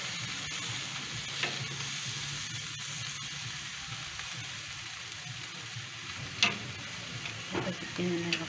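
Carne asada sizzles steadily over a hot fire, a constant broadband fry hiss with occasional ticks and a few sharper pops or scrapes of the meat being turned, close and moderately loud.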